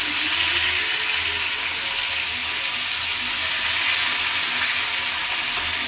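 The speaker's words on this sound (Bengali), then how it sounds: "এই যে দেখো মাছ ভাজা দেখছো বন্ধুরা" Fish frying in hot oil gives a loud, steady sizzle and crackle that fills the whole stretch without pause, with a faint low hum underneath and no talking.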